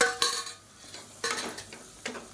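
Chopped tomato and masala sautéing in a pan, with a spoon stirring and scraping in a few distinct strokes over a soft sizzle. It is close and quiet, with no voices.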